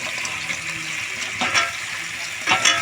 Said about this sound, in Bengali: ভেজে রাখা বড়াগুলো মশলার মধ্যে দিয়ে দেবো।